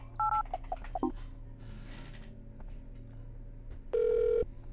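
Telephone number dialed in the video game Silent Hill: Shattered Memories: a quick run of touch-tone beeps near the start, then a longer single tone toward the end, over a low background hum.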